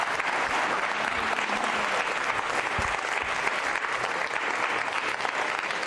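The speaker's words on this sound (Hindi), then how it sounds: "जोरदार तालियां बजनी चाहिए।" Loud, dense audience applause at a Ramadan quiz show, a continuous sustained wash of many hands clapping at an even level from start to finish.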